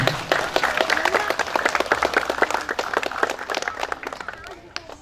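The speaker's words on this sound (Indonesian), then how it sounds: "Mohon tepuk tangannya untuk remaja kita semua." Crowd applause for the youth at an Indonesian Independence Day flag-raising ceremony in a neighborhood in Tangerang, Banten: dense, steady clapping from many people nearby, lasting the whole stretch and thinning slightly toward the end, with voices mixed in.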